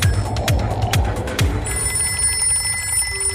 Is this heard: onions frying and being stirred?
no